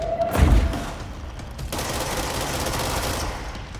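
Enemy gunfire in the video game Control: one sharp, loud blast near the start, then a sustained stretch of crackling, rattling shots at a steady level.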